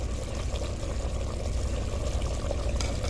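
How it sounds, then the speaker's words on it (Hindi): Ghee being poured into a cooking pot, a steady close liquid pour with a low background hum running through the whole moment. "तो घी जो है ये डाल देते हैं अब इसमें, ये देखिए जी।"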